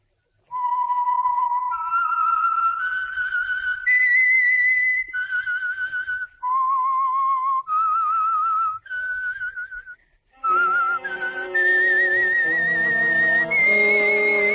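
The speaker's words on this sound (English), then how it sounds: "the signal to listen for is this whistle that identifies the Signal Oil program" A whistled theme tune identifying the Signal Oil radio program The Whistler, a clear melodic line of held and sliding notes, joined midway by an orchestral accompaniment swelling beneath it.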